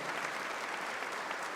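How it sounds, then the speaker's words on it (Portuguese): Steady, dense applause from a church congregation during a talk on Catholic councils, an even wash of clapping with no pauses and no voices. "pode aplaudir"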